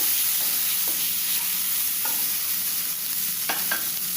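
Chopped green chili and ginger frying with frozen peas for paneer and cashew samosa filling, a steady close sizzle of oil with occasional clinks and scrapes of a stirring spoon against the pan.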